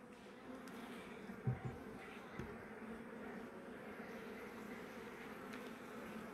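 Honeybees buzzing around honey-filled hive frames while work is done on mating nuclei, a steady low hum with a few soft knocks of frames, quiet and close, no talk.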